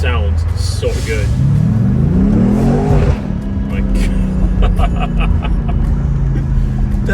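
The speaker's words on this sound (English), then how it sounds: "The exhaust, when it pops, it just sounds like a shotgun on the back of my head with this convertible" A 2020 BMW M8 convertible's engine revs and its exhaust rumbles loudly close by, with a rising sweep early on and then crackling pops. A person talks over it.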